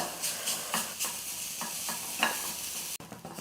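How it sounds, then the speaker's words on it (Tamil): Grated coconut dry roasting in a kadai while making idli podi, with a steady scraping stir and soft sizzle, close and alone, one sharper clack near the end. "ஒரு கால் கப்பு வந்து துருவின தேங்காய் அதையும் சேர்த்து ஈரம் இல்லாமல் வறுத்து எடுத்துக்கலாம்"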